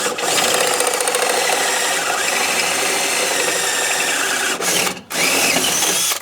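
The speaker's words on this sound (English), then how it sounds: "I've got a step drill" Step drill grinding through metal while enlarging holes during front ball joint work on a 2006 Pontiac Torrent, a loud continuous whine with a short pause and restart near the end.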